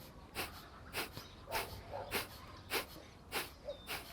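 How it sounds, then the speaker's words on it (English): Rapid forceful exhalations through the nose in kapalabhati breathing practice, seven sharp, evenly spaced huffs about every 0.6 seconds, close and clear with quiet pauses between. "we're going to feel the same panting but through the nose"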